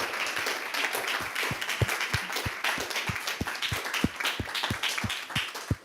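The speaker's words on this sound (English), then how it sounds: "Please, a big round of applause for them." Audience applause after a climate policy panel at a conference: a room of many people clapping steadily, with one nearby pair of hands standing out as sharp, regular claps over the broader crowd.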